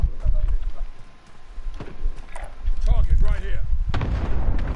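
Gunfire in the video game Call of Duty: Modern Warfare: loud bursts and sharp shots come in clusters over a steady game din, with players talking throughout.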